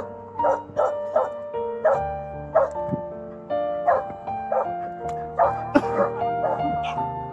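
A rescued golden retriever at a dog adoption event whimpers and yips in a rapid string of about a dozen short, high, plaintive cries, close and fairly soft, with faint voices around it.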